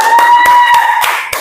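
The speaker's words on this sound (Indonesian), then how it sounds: "Tepuk tangan untuk Lili." Clapping for a student presenter in a classroom, a short burst of scattered hand claps with sharp taps, close and fairly loud, no talk over it.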